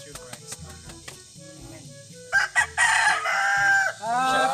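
A rooster crows loudly and close in a long drawn-out call near the end, after a stretch of quieter clucks, tones and ambient sounds on a rural farm.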